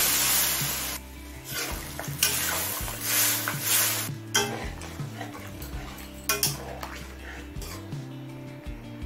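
A utensil scrapes and clinks against a pan as okra curry is stirred with added water, giving a steady gentle sizzle with intermittent metallic knocks, close and moderately loud.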